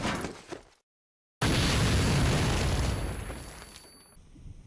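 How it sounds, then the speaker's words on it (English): A grenade goes off in a video game: after a brief dead silence, one loud, broad explosion bursts in and rumbles away over a few seconds, slowly fading. "Grenade!"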